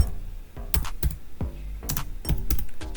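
Typing on a computer keyboard comes as a handful of separate, crisp key clicks and taps at an uneven pace, close up and with no talking.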